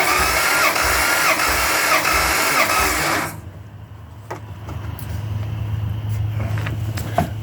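An engine cranks over with cylinder 5 under a compression test, giving an even, rhythmic chugging for about three seconds before the starter stops, followed by a low hum and a few light clicks.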